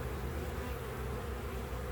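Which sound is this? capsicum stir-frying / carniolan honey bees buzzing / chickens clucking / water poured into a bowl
carniolan honey bees buzzing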